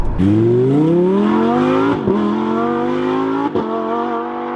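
Green Lamborghini Huracán Performante supercar with four-wheel drive and a very loud engine, revving hard and rising steadily in pitch through the gears, with two sharp shift breaks, close and loud throughout.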